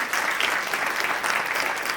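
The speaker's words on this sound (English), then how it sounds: "So let's give everybody a round of applause." Audience at a city council candidate forum breaks into applause, a steady, full burst of clapping filling the hall.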